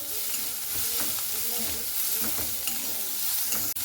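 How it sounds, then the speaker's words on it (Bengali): Potatoes with pointed gourd and taro stolons stir-fried in a pan, a dense close sizzle broken by rhythmic scraping and tapping of the spatula. "এরপরে আলুর সঙ্গে এইভাবে আবারও 1-2 মিনিটের মতো একটু নাড়াচাড়া করে নেব"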